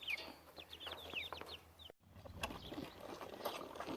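Several chickens cluck and chatter close by in a busy, continuous flock, with sharper higher calls scattered through the noise.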